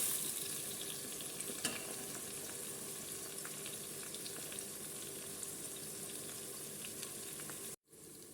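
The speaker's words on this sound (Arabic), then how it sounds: "نقلي البصل بتاعنا شويه" Chopped onions sizzling in a pan as the base for a beef stew, a faint, steady frying hiss with small crackles and an occasional stir, no voices, cut by a brief dropout near the end.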